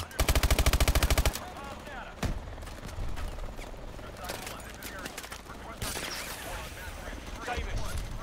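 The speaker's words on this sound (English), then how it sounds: "We'll give you some suppressive fire." Suppressive gunfire in the Call of Duty: Advanced Warfare campaign mission Throttle, opening with a loud rapid automatic burst, followed by scattered shots, impacts and mechanical clatter amid combat ambience and faint voices.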